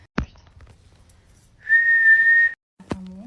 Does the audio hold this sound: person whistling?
yes